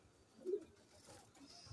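A soft, low pigeon coo rises briefly in the middle, faint against quiet background noise.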